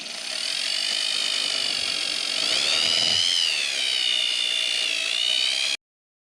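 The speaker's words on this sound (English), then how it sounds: "I'm gonna try to take some of this out with a little rotary file." A small rotary file in a drill grinds steadily at a high-pitched whine into a 1955 Chevy 235 engine part, its pitch wavering slightly as it bites into material, then stops abruptly.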